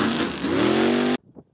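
Hell's Bells mega truck engine revving hard, a loud rising throaty roar that climbs in pitch and then cuts off abruptly, followed by faint low rumbles.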